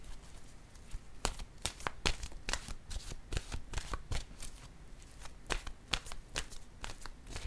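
Playing cards are shuffled before one is drawn, making a quick series of sharp, papery snaps and flutters close by that continue unevenly throughout.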